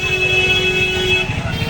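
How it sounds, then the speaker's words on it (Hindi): Dense street traffic roars steadily, with car horns honking loudly and continuously on top of the engine rumble of many passing vehicles at close range. "और गाड़ियों का भी शोर हो रहा है"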